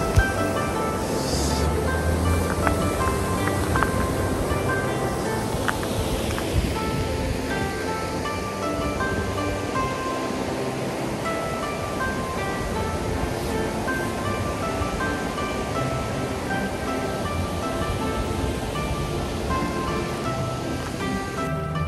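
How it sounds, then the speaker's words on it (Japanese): The Yokoyu River, fed from Shiga Highlands, rushes past the Shibu Onsen hot spring town in a steady, broad wash of flowing water, continuous and fairly close with no talking. "こちらがね志賀高原を源流とする横湯川ですね。 この川沿いにね渋温泉は建っております。"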